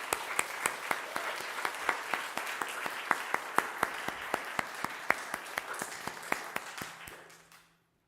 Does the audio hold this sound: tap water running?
no